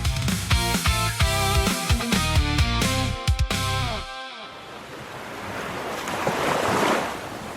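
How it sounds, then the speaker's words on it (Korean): Ocean waves roll onto the shore at Sokcho, a loud continuous surf rush swelling and easing after a few seconds of music fade out. "밀려오는 파도 소리."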